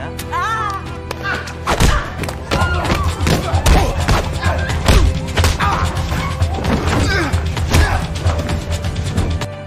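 Kung fu fight in a film: rapid whooshing swipes and punchy thuds and smacks come in dense bursts over a musical score, with shouts and grunts mixed in.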